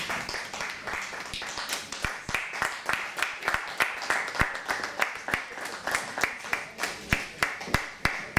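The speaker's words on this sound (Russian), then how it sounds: "Очень хочется, чтобы они получили свою порцию аплодисментов." Audience applause at a memorial evening for Leonid Filatov, a dense wash of clapping that builds into a rhythmic, near-unison beat with sharp, loud claps, sustained throughout.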